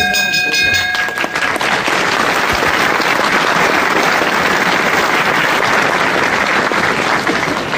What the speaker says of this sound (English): Just listen to that applause.